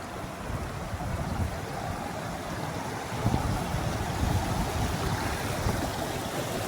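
The Salgi river rushes in a steady, broadband wash of flowing water that continues unbroken throughout, loud and close, as people cross it on foot during the Narmada parikrama.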